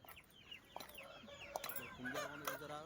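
Native country chickens cluck and chirp softly, with scattered short calls rising and overlapping, faint and at some distance.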